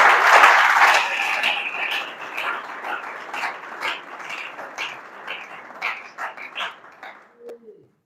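A church congregation applauds, loud dense clapping at first that thins into scattered, uneven claps before fading, with no voices over it.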